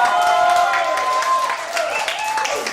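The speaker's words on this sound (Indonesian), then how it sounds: "Tepuk tangan dong buat mereka ya." Audience applause at a 360 Community event in a cafe, steady dense clapping with cheering and crowd noise, fairly loud and close, with voices and tonal sounds mixed through it.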